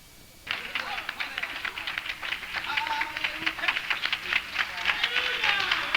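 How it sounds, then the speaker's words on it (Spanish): Congregation bursts into applause at a church service, starting suddenly after a brief quiet moment and continuing as lively, sustained clapping with some voices mixed in. "Denle un aplauso a Cristo"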